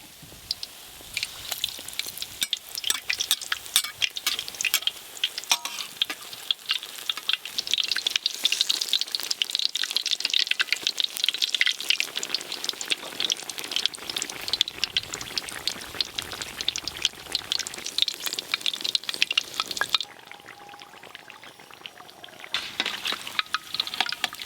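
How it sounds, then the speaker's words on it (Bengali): Brinjal fritters (beguni) deep-frying in hot oil, a steady dense sizzle with crackling bubbles that runs continuously and close, dropping briefly near the end before resuming. "একই রকমভাবে সব বেগুনিগুলো ভেজে নেব।"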